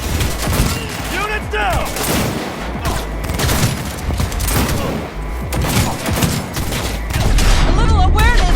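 Dense gunfire from a firefight in the video game Cyberpunk 2077, with rapid bursts and booming shots rattling continuously and loudly, while voices shout over the shooting.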